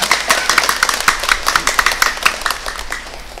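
A crowd claps in a brief burst of applause during a church Mass, sharp hand claps overlapping and fading slightly toward the end.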